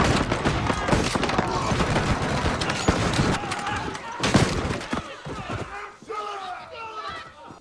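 Volley of gunfire from the TV series The Walking Dead as a line of Negan's people fire together, a dense burst of overlapping shots and clatter that thins out toward the end, with voices mixed in.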